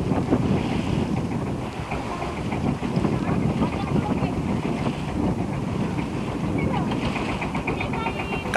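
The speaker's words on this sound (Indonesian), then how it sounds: "Kapal kami mengurangi kecepatan. Lalu kapal mendekati dermaga Pulau Panjang dengan pelan." A boat's motor churns steadily amid gusty wind and splashing water as it slows approaching the Pulau Panjang pier in Jepara, Indonesia, a continuous rough roar throughout.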